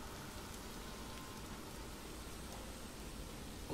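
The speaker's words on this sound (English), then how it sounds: "You like the rain, huh?" Steady rain pours in The Evil Within video game, an even hiss of drops falling on surfaces. It runs without a break and without talk.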